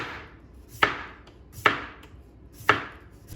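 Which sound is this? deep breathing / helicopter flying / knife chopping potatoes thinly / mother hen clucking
knife chopping potatoes thinly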